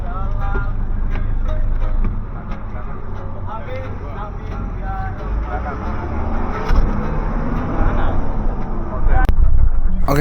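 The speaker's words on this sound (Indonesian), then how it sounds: "seperti ini situasi di dalam kabin bis Jaya ya teman-teman ya" Inside the cabin of a Jaya air-conditioned regular-fare intercity bus during the 2024 mudik season, a loud continuous engine and road rumble with a steady high whine, and people talking over it.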